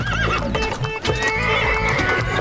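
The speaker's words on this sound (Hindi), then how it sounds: "घोड़ा भागने लगा" A horse pulling a cart breaks into a run, whinnying over a steady clip-clop of hooves, loud and close, with a continuous tonal backing throughout.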